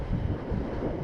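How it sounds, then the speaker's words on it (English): Steady low rumbling wind buffeting the microphone while riding a Vespa in Bangkok, continuous and fairly loud, with no voices. "it's a little bit windy today"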